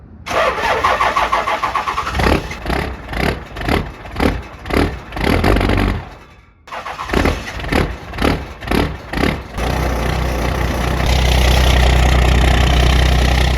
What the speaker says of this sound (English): it's chilly outside. It's time for a cold start.